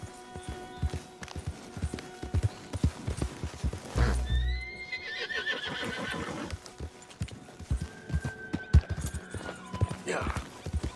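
Hooves clip-clop steadily in Red Dead Redemption 2 as a horse moves along, with a loud whinny partway through and scattered game ambience around it, no speech over it.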